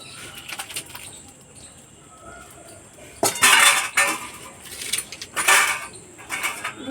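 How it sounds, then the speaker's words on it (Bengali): A metal spatula stirring and scraping in a pan, with light clinks at first, then a few louder bursts of scraping against the metal, close by, with brief pauses between strokes. "এবার খুন্তি করে একটু ঘেঁটে দেবো।"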